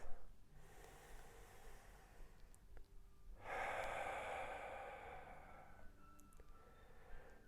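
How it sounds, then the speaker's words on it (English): Slow, close breathing held during a dolphin yoga inversion, with a long audible exhale, a pause, then a fuller soft breath, all fairly quiet and with no talking. "And just taking a few rounds of your breath."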